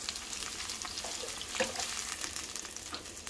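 Onion sizzles steadily in a frying pan, a soft continuous crackle with a brief louder burst midway as it is pushed aside, no voices over it.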